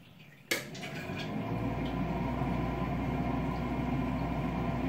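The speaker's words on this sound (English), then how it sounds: "you can hear the fan kicking on and off." A Wood-Mizer BMS 250 blade sharpener's fan starts with a sharp click, then settles into a steady whirring hum with a low drone and mechanical tone that continues to the end.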